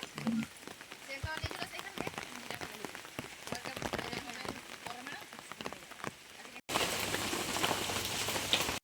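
Monsoon rain falling steadily in a village, a dense close patter on surfaces with a brief break before it returns louder, and no talk.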